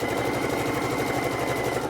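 Sewing machine stitching the top layer of a pillow, a steady continuous mechanical whir with a rapid rhythmic needle chatter, close and fairly loud throughout with no talking.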